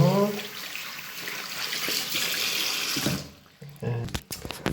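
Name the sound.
rinsing a washcloth glove under running tap water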